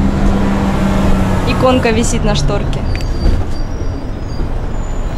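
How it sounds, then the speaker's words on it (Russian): A low, steady engine rumble and road noise fill a moving bus in Russia, with people, including a child, talking over it close by. "Автобус в России."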